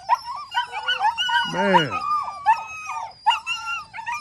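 A puppy repeatedly barks and whimpers up close in a bout of nuisance barking, with high whining yips and sharp barks coming in bursts while someone talks over parts of it.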